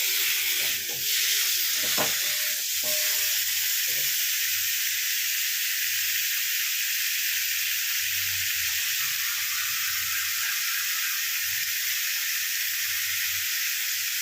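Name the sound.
frying ingredients on high heat for chicken stew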